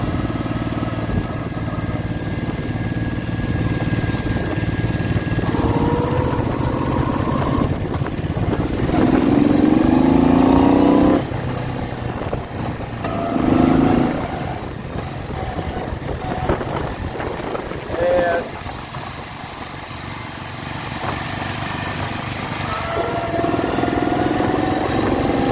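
A 1968 Moto Guzzi V7 700 motorcycle with freshly sleeved cylinders idles as low as it will go, a steady, close, mid-pitched engine rumble that swells briefly a few times before settling.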